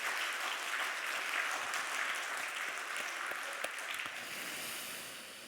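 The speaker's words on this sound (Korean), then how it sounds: "우리 힘차게 감동의 박수를 한번" A church congregation applauds during a Sunday worship service, dense, sustained clapping from many hands for several seconds that tapers off slightly at the end, with no talking.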